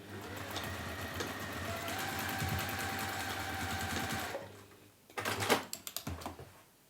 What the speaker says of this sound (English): nest them, and then just sew across